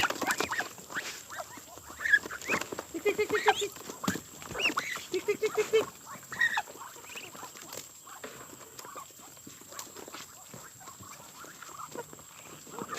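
Faint quacking and soft chatter from small ducklings nearby, scattered calls and pattering over a quiet background.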